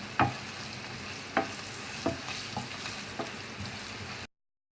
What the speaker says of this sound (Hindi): अब हमने इसको 2 से 3 मिनट भूनना है बेसन को।